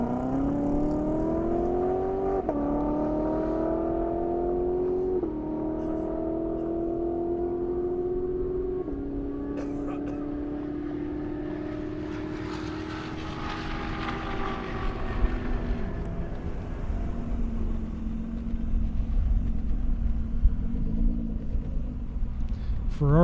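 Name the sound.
Ferrari F Spider hot lapping on airstrip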